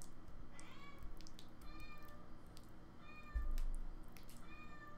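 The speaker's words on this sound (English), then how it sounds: "I hear a cat." A cat gives a series of soft, repeated meows at a moderate distance in a room where ocarinas are being made, over a constant low background hum.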